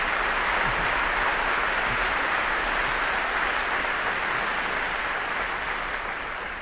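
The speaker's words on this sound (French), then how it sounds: "Je l'entends qu'on l'applaudit là-bas derrière" Concert audience applauding at the Châtelet after a performance: a dense, continuous roar of clapping from a large crowd, sustained and even, easing slightly toward the end.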